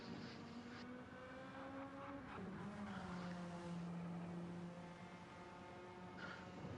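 Race car engine in a Gran Turismo-style Gr3 racing video game, a thin, whiny tone likened to a hairdryer, droning steadily throughout with pitch slowly shifting as the car runs, no talk over it.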